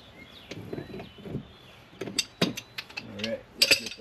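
A wrench working a threaded gas pipe fitting during an installation, giving a run of sharp metallic clicks and ratcheting ticks that grow louder toward the end, with a voice speaking briefly among them.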